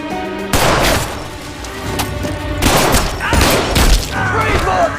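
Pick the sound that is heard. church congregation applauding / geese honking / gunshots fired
gunshots fired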